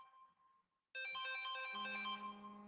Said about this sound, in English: Sorry, I had a phone call.